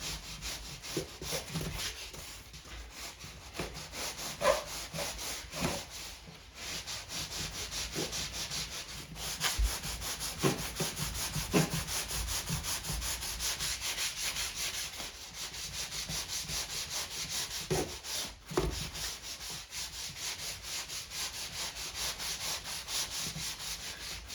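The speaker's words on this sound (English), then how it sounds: "I'm just kind of sand down the sharp edges there" Sandpaper rubs steadily over the sharp edges of a repaired, previously damaged or chewed wooden baseboard, a continuous close scratchy rasp with small rhythmic strokes and no talking.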